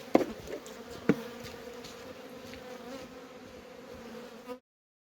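Bees buzz in a steady, layered hum close by as a petrol blower clears them from hive supers, with a couple of brief knocks near the start, the drone holding until it cuts off.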